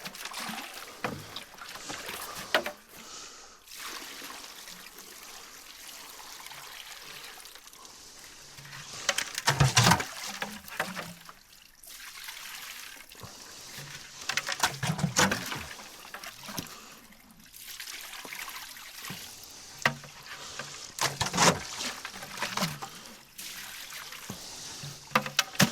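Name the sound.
water rinsing gold out of a sluice mat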